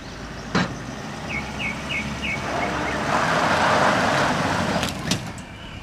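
A pickup truck engine towing a trailer rumbles steadily, rising in intensity midway, with a few sharp clicks and faint high beeps over the continuous low drone.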